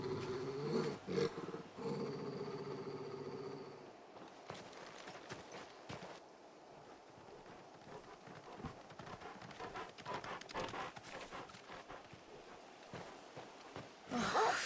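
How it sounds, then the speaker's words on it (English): An angry dog growls in the video game Final Fantasy 16, with low, quiet rumbling growls and snuffling amid soft footsteps and other game sounds, ending in a louder burst. "Always pissed off dog."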